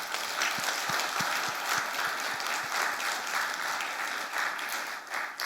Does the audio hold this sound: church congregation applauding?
yes